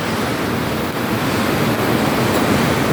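Rough sea off Palawan during a signal number 2 typhoon with flooding, heard as a continuous, loud roar of surf mixed with heavy wind buffeting the microphone, with no voices.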